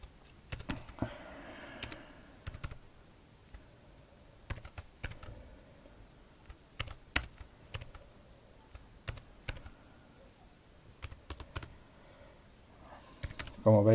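Fingers type a long WPA2 Wi-Fi password on a computer keyboard, with crisp, irregular keystroke clicks close up, grouped in short bursts separated by brief pauses.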